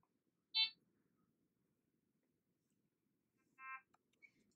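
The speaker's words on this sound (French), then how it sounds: "Alarme de détection d'air." Two short electronic beeps from an Amika enteral feeding pump's air detection alarm, spaced a few seconds apart, against near silence.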